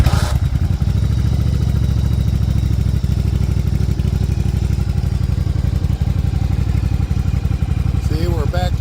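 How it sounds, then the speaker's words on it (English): A Yamaha Virago 750 chopper motorcycle fires up from a stone cold start and settles into a loud, steady, slightly high idle with a rapid rhythmic throb that continues throughout. "I want to start this thing up and I want to show you from a stone cold start."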